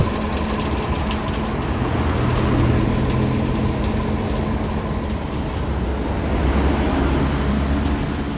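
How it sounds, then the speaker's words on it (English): Continuous road traffic rumbles along a street in Montclair, New Jersey, with tire roar and engines from cars running up and down at moderate distance, steady and unbroken, with no voices. "All you hear is the tires and the cars running up and down."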